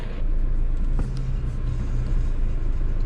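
A Tata Nexon 2026 Diesel Creative Plus running on the road, a steady low cabin rumble of engine and tyres, continuous and fairly loud.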